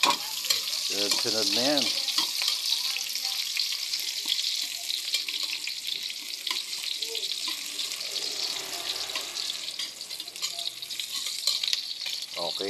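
Onion sautéing in a pan for ginisang sayote, a continuous broadband sizzle under brief talk near the start, with a few stirring scrapes.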